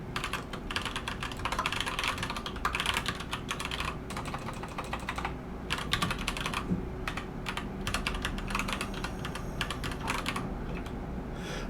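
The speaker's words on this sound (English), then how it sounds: "I'm going to retype it." Fingers type on a computer keyboard in quick irregular bursts of clicking keystrokes, close and clear, with short pauses between runs of keys and no talking.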